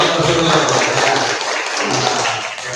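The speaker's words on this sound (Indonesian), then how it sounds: "Kita kasih semangat dulu, tepuk tangan dulu" Junior high school students clap their hands in a classroom after a study tour report presentation, a burst of group clapping that is loud at first and then thins out.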